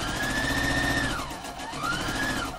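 A sewing machine runs steadily as it stitches slippery fabric, a continuous loud whirring hum that slows and dips briefly partway through, then speeds back up.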